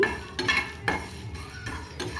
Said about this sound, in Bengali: আর এখন আমি একটু মশলা ভেজে নিচ্ছি